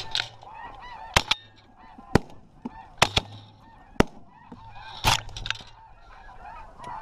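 Geese honk close by during a waterfowl hunt, with repeated loud calls in irregular bursts and some sharp cracking sounds over faint background murmur.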